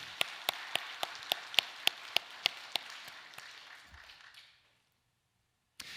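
A church congregation at a Seoul Sunday worship service claps in a steady, even rhythm, about a dozen distinct claps fairly close by, before the sound thins out and falls to silence, then one last isolated clap.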